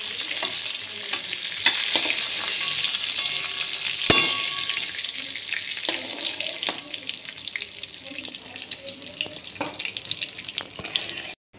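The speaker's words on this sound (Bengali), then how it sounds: "এই পটল ভাজার তেলের মধ্যে আমি ফোড়ন দিয়ে নিচ্ছি, জিরে, শুকনো লঙ্কা, তেজপাতা।" Cumin, dried red chillies and bay leaf crackling in hot oil left from frying pointed gourd, a close, busy sizzle with spatula taps and scrapes that thins out toward the end.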